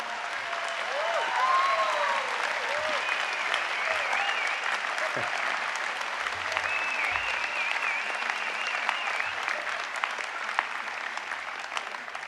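Sustained applause from a large crowd at a college commencement, steady and dense clapping throughout, with a few scattered whoops rising above it.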